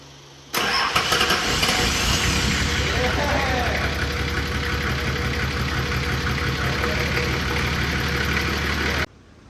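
A Nissan TD42 diesel engine in a rebuilt motor cranks and fires abruptly, then settles into a loud, steady, close idle with a rhythmic diesel clatter that runs almost to the end before cutting off.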